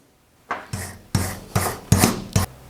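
A file rasps across metal joint surfaces being cleaned before welding. Six firm strokes come close and loud in a steady back-and-forth rhythm, each a harsh scraping burst with a ringing metallic edge, and no one talks.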